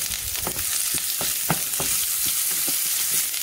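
Garlic, green chilli and curry leaves frying in hot oil for capsicum chutney, a loud, steady close sizzle with a series of soft stirring knocks spaced through it.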